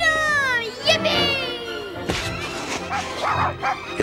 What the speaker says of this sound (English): His dog adores him.